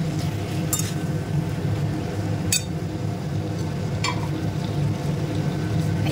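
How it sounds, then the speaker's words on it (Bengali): Boiled chicken is fried and stirred in a pan over low heat for a restaurant-style chicken dish, giving a steady low sizzle with a few sharp clinks of the spoon on metal, close and continuous. "এবার চিকেনটা দিয়ে আমি ধিমি আঁচে কষাবো।"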